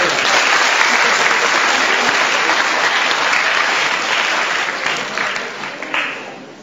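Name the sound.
applause for the new travel agency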